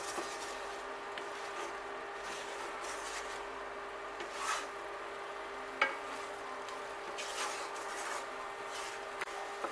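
Mushrooms fry gently in a pan with a low, soft, continuous sizzle, broken by a few faint scrapes and clinks of stirring.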